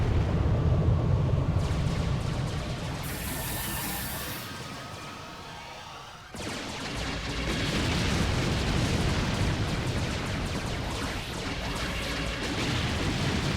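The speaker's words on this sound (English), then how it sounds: "Bam, more airstrikes." Continuous rumbling blasts from airstrikes in the strategy game Darwinia, a dense roaring wash of explosions that dips briefly midway and then surges back, loud and sustained with no talking.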